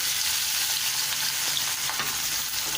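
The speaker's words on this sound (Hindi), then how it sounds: "देखिए हमारा ऑयल जो है वो गर्म हो गया है। अब इसके अंदर हम ये सबसे पहले जो है वो हरी प्याज डालेंगे" Green onions fry in hot oil for a brinjal bhurta, a loud, close, continuous sizzle with faint stirring clinks and no voices.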